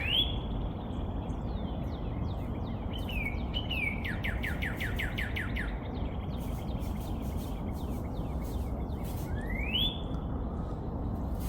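A red songbird, not a cardinal, sings outdoors in rural Japan with sliding whistles and a quick run of repeated sharp chirps, then a rising whistled note near the end, fairly close over steady low outdoor rumble.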